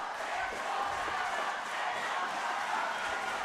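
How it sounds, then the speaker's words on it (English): A football crowd at a Copa Paulino Alcantara 2023 semifinal between Dynamic Herb Cebu FC and Davao Aguilas roars continuously, a dense, far-off wash of cheering and shouting that holds steady the whole time. "You can hear the crowd getting crazier and crazier"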